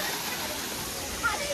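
Small waterfalls beside a hilltop temple near Lonavala, a steady soft hiss of falling water, faint and continuous with no voices.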